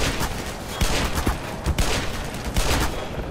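Rapid gunfire from a Black Mesa firefight crackles in dense bursts, with several sharper shots punching through a steady barrage of overlapping rounds.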